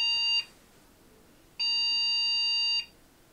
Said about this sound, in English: Sounds like we have a beeping noise